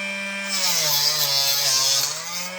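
A power saw cuts through a vintage wooden construction ruler, giving a steady, close, loud whining hum with a bright rasping edge that holds for a couple of seconds.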